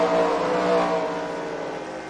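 Race cars roaring around the dirt oval at Eldora Speedway, a steady loud engine drone that fades slightly as the cars pass, with no voices.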